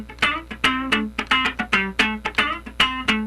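Funk rhythm guitar plays a straight-feel, fairly fast one-bar strummed pattern, with crisp choppy chords and muted scratches in a tight repeating groove, loud and close with no talking.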